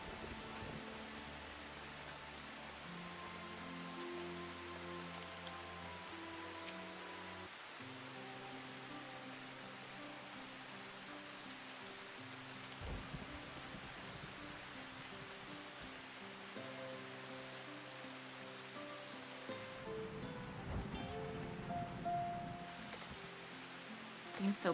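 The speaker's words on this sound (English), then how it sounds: "Oh, it's raining. I love the sound of rain." Steady rain falls in the video game Final Fantasy XIV: Shadowbringers, a soft continuous patter beneath gentle sustained game music, with a brief louder splash of water near the end.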